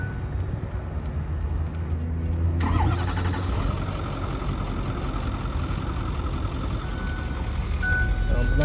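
A 2008 Ford F-250 Lariat diesel pickup cranks and catches, then settles into a steady, loud, close idle with a constant low rumble that carries on to the end.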